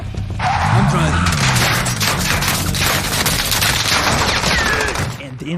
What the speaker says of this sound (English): Enemy team pre-firing and peppering his window.